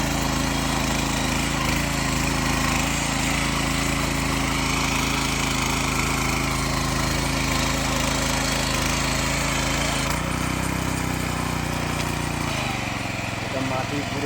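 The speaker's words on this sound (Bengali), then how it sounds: "এটা মাটি গুঁড়ো করা মেশিন।" Soil tiller machine with plough-like blades churning soil around the base of rose plants, a loud continuous rattling engine drone that changes pitch near the end, with a voice talking over it.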